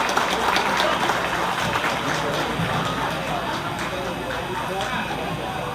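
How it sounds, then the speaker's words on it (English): Audience applause for guest Mr. Morton Sklar at an evening gathering: a dense, steady clapping wash lasting throughout, with voices mixed in. "please give Mr. Morton Sklar a big hand of applause"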